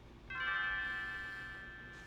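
A single clear bell tone rings out in the Chrono Trigger video game at the Millennial Fair, sounding Leene's bell, and then sustains and slowly fades over a soft background hum.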